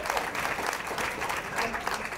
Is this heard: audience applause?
yes